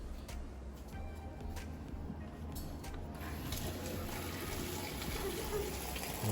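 Water gushing through a kitchen pipe after a stopcock is opened during a home renovation, a steady broadband rush, loud and continuous, with a few brief clicks.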